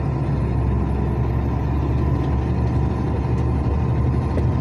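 Heavy traffic crossing the BR 101 highway near Maruim, with a steady loud low engine rumble from trucks and buses and a faint hiss of air brakes, continuous throughout.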